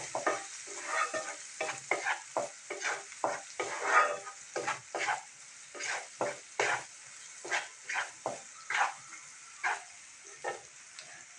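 In a frying pan of softened onions, coriander powder and garam masala are stirred in for a spicy pea curry, with a quick run of rhythmic scraping strokes over a soft, constant sizzle.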